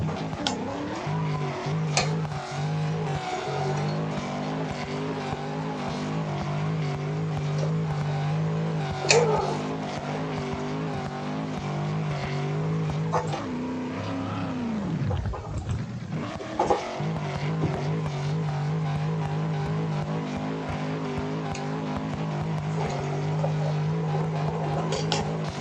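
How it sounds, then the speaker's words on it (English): A car in BeamNG.Drive nicknamed old white trash does a burnout on the pad in 4th gear, with a loud steady engine roar and squealing tires and a brief dip midway. "a quick burnout down here on the pad with old white trash, just to make sure that it is burnout ready"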